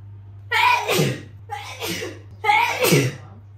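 A sneezing fit brought on by pollen allergy: three forceful sneezes in quick succession, close and loud, each with a sharp intake and explosive burst, over a steady low electrical hum.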